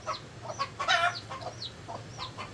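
Pet chickens cluck repeatedly nearby with short, choppy calls, including one louder burst of clucking partway through, against a steady low background hum.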